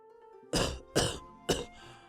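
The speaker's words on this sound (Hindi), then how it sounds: "तभी वो जोर से खांसते हैं" A man coughs loudly three times in quick succession, harsh and close, with short pauses between each cough.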